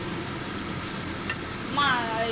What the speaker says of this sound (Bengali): বেগুনটা ভাজছি আর কি। আর এদিকে আমাদের ইলিশ মাছ ভাজা হচ্ছে